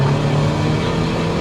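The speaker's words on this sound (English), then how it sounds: "you can hear the turbo spooling" Steady, loud engine drone with a whining turbo spooling from a 353bhp Skoda Fabia vRS, sustained and even throughout with no break.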